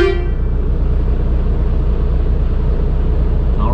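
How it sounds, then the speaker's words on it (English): A truck's air horn sounds in a brief loud blast at the start, then a steady heavy engine rumble carries on alone in Toronto. "Any excuse to use the air horn."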